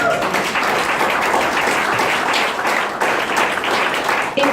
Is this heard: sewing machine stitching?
no